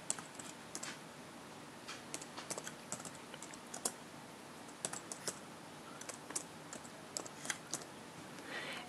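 Computer keyboard typing at a desk, a quick irregular run of light clicking keystrokes with short pauses, close but fairly quiet and with no voices.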